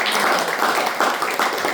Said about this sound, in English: that actually deserves a round of applause